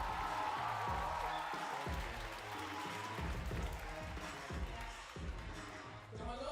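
A live audience at a stand-up comedy show applauds a comedian onto the stage, a steady wash of clapping from a crowd with a few cheers, fairly close and sustained for several seconds.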